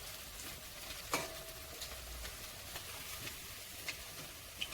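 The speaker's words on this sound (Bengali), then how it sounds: "এবার একটা একটা করে দিয়ে আমি ভেজে নিচ্ছি" Green jackfruit pakoras sizzle gently in hot oil, a soft, steady frying hiss with a few sharp crackles and pops scattered throughout.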